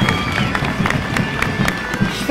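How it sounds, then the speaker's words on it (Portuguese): Crowd applause and cheering at the outdoor inauguration of the Torres Vedras Carnival monument, a steady dense clatter of many hands with festive crowd noise throughout. "Salve de palmas!"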